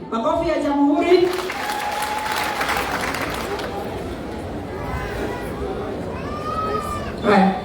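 An audience applauds at a school gathering, with a steady wash of clapping mixed with crowd chatter and children's voices, and a person talking over it.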